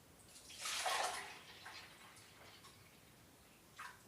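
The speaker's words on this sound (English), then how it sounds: "try and get this apple juice into the jug and then into the bottle without spilling too much" Apple juice poured into a jug for home brewing, one quiet splashing burst of liquid that swells and fades over a second or so, then soft trickles and a brief splash near the end.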